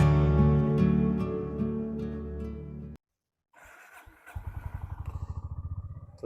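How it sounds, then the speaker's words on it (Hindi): Honda CB 350 RS motorcycle cold starting on a morning ride: music plays, then after a short silence the starter cranks and the engine catches into a steady, close, rhythmic single-cylinder idle thump. "तो ये कर लिया हमने अपनी बाइक को कोल्ड स्टार्ट।"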